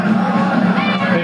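A large crowd at a 1989 high school football playoff game at Kannapolis High School roars and shouts in a loud, dense burst, with voices blended together.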